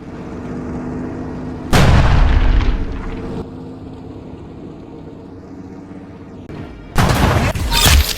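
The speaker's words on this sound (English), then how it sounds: "We are in tanks and we gotta blow up the other team." Tank cannon shots in a Roblox minigame: two loud, booming blasts some seconds apart, each with a rumbling tail, set against a low steady background hum.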